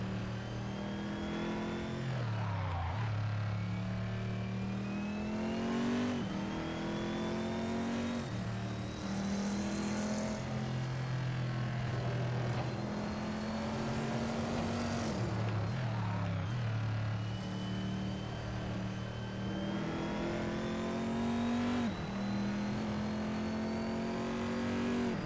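V8 race car in a racing video game pulling away from the pit exit, engine revving through rising gear sweeps with repeated upshifts, loud and continuous throughout.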